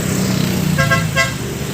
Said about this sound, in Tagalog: Mapapansin natin na walang tigil ang pagdaan ng mga sasakyan dito.